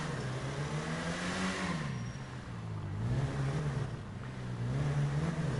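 A sports car engine in a Rockstar video game drones and revs at high speed, its pitch rising, dipping and climbing again in a continuous, fairly loud roar, as if echoing through a tunnel, with no talk.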